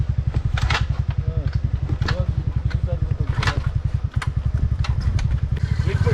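A motorcycle engine in Bhadra Tiger Reserve chugs with a steady, throbbing low rumble and some rattling clatter, loud and close throughout, with faint voices in the background.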